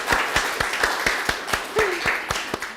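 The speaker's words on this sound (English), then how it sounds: "Give him a round of applause." A small audience at a leadership talk claps in sparse, distinct individual claps, fairly close and moderately loud, with no voices over it.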